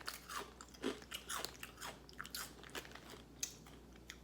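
Crunching on UK Bugles corn snacks, a string of crisp bites and chewing close to the mic, with no talk over it.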